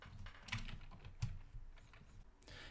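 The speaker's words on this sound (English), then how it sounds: "where you'll type in Payable Forms" Typing on a computer keyboard, with a run of quiet, irregular key clicks heard close up and alone, with no talking.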